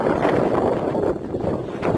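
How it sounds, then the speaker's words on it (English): Wind picks up outdoors at a roadside stop, a loud, steady broadband rush buffeting the microphone with slight swells, no voices. "now it's the wind picking up"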